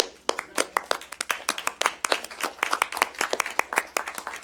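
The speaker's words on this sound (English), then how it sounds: "Let's give him a round of applause." A round of audience applause at a civic board meeting, with brisk, dense clapping close by that holds steady throughout.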